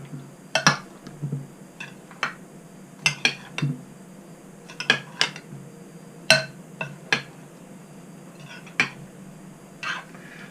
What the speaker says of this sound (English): Now, let's carefully stir that up.